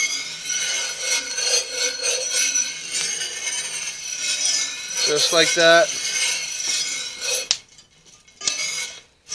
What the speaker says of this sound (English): You still hear the beans cracking a little bit.